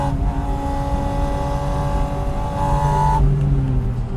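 Porsche 718 Spyder RS convertible exhaust at speed, a loud steady drone with layered engine harmonics that rise and hold, then shift to a lower note near the end, heard close behind the cabin with no talking.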